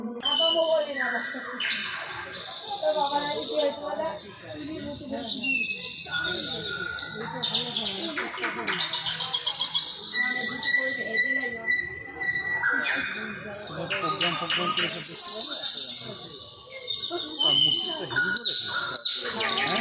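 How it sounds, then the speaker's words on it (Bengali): Birds chirp and tweet almost continuously inside a Durga puja pandal decorated with a bird scenery theme, with bright, busy, overlapping calls at close range and voices talking faintly underneath. "পাখি ডাকছে, আর পাখির পুরো সিনসিনারি করেছে"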